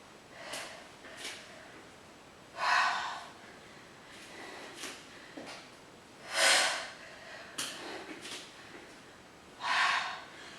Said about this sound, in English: Big exhales as you twist.